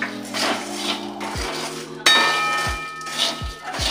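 Chira jira sweet with ground cardamom is stirred in a metal pot, with repeated clanks and scrapes of a spoon against the rim and sides, close and loud, with no voices.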